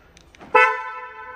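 A car's horn gives a single short, loud chirp as the parked car is locked, its bright tone ringing briefly then fading, preceded by a few faint clicks.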